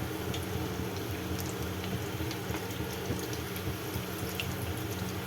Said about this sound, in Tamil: எண்ணெய் சுட்டோனையே மீடியம் ஃப்ளேமில் வச்சு இந்த மாதிரி நம்ம குட்டி குட்டி போண்டாக்களை நம்ம போட வேண்டியதான்